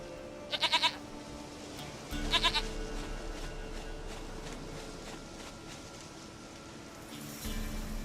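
Short, quavering goat bleats from The Witcher 3 sound twice in quick succession, close and moderately loud, over a low in-game ambient hum that shifts partway through.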